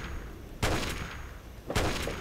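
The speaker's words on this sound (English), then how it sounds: "I still hear shooting" Gunfire in the video game Fallout 3, The Pitt DLC: two sharp, loud shot bursts about a second apart, each with a brief crackling tail over a steady background hum.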